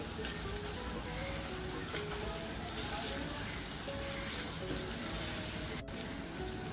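Onion with a little salt and two dried red chilies frying in a pan, a dense, even hiss that holds steady throughout, with a faint tonal murmur in the background and one brief gap near the end.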